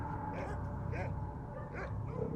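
An Anatolian guardian dog gives faint, short whimpers and yips in a few spaced bursts over a low, steady background rumble.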